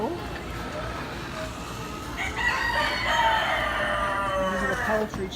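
Chickens and roosters in a poultry show barn at a county fair, with a rooster crowing and hens clucking over steady crowd murmur and background noise.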